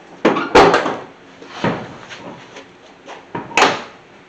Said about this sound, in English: We'll latch that door.